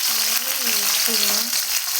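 Curry leaves fry in hot oil with a bright, steady crackling sizzle, while a low humming voice runs faintly beneath.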